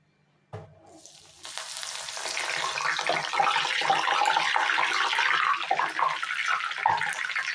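Curry leaves and green chillies hit hot oil with a sudden thump, then a loud, close, spitting sizzle that swells and holds, crackling steadily in a cauliflower bajji pan with no voices.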